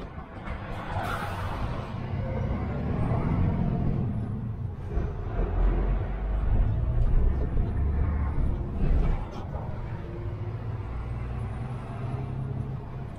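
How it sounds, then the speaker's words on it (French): A Scania truck rumbles past on a village road with low diesel engine roar and a hiss like an air brake, swelling and fading with the traffic noise, with a voice briefly under it. "Ah, il est beau son camion, lui."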